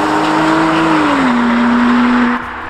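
Porsche Boxster S 987 flat-six engine pulling hard under acceleration, a loud, close, sustained rising drone that then settles into a steady tone before cutting off abruptly, with no voices.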